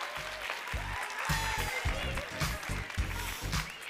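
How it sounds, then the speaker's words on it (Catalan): Crowd applause in a packed school playground for a student team at a quiz contest, clapping mixed with rhythmic thumping and cheering voices. "Ixa bona ovació, que avui tenim el pati ben ple."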